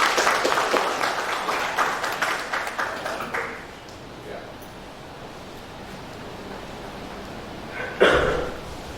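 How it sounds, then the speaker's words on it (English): An audience at a college law orientation day applauds to welcome a speaker, the clapping fading out after a few seconds. A quiet room and a brief sound follow. "Let's welcome sir with huge round of applause, please."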